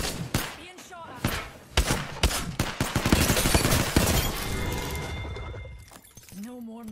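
Apex Legends gunfire in a rapid burst of sharp shots and impacts, loud and close, followed by a sustained clattering barrage, with a game character's voice speaking near the end.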